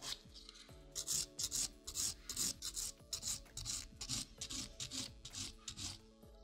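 Rhythmic rasping of a hand nail file thinning acrylic nail product flush with the natural nail, repeated short strokes close up, alone without speech.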